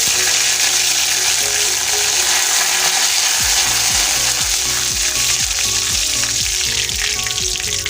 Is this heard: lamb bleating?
no